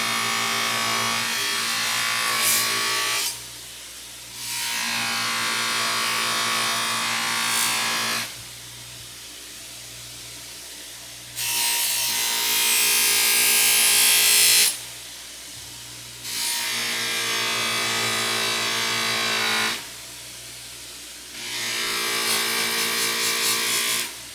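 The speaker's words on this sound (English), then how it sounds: "Kick on the buffer. Put some green compound on here. And just start buffing." A powered buffing wheel loaded with green compound polishes a blade in repeated bursts, a loud whirring grind rising and falling as the steel is pressed on and lifted off, with quieter motor hum between passes.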